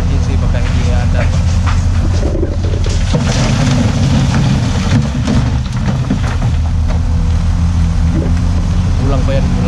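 A vehicle engine keeps running steadily while the vehicle crosses a river on a muddy road, a loud continuous rumble with wind buffeting the microphone and water noise, voices talking over it.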